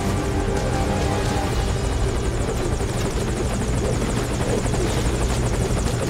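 Helicopter in the Metal Gear Solid V: Ground Zeroes video game, a loud, steady rotor thrum with engine whine that fills the whole stretch close up, with no talking over it.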